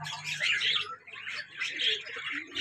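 Pet cockatiels, a grey male and a white-face female, giving repeated harsh squawking calls close by in short bursts.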